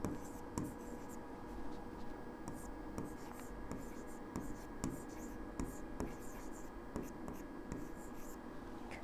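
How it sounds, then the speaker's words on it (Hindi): A pen scratches on paper while working out a probability problem, faint irregular strokes and taps in a quiet room with soft voice in the background. "हम उस इन्फॉर्मेशन को अपने पेपर पे लिख लेंगे"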